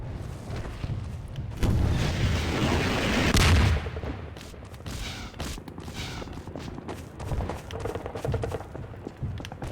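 Missiles exploding in Half-Life 2: a loud, sustained roar of blasts and rumbling booms builds early and peaks mid-clip, then gives way to scattered, quieter impacts and noise.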